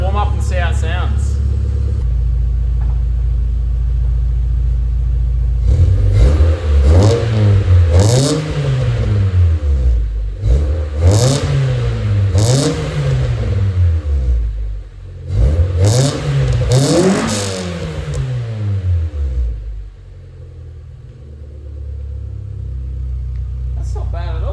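A car engine warming up rumbles at a low idle, then revs up and down in a series of rising and falling pulls. The revs come close and loud, and the engine settles back to idle at the end.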